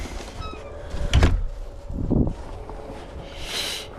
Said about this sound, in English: Oh no, I'm stuck in the door.